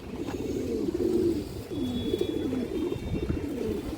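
A pair of large, fairly dark pigeons on a bird market stall coo close by in repeated low, throaty, rolling phrases that run continuously with steady background noise.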